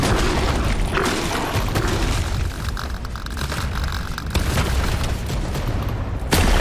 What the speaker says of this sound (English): There we go, some grenades out.